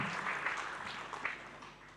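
A church congregation applauds during a Sunday worship service: steady, diffuse clapping from many hands, moderately distant and even, with no voices over it.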